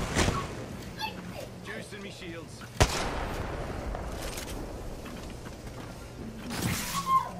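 Video game gunfire crackles in scattered shots through a busy firefight, with a sharp crack near the middle and a louder burst toward the end, under ongoing chatter from players.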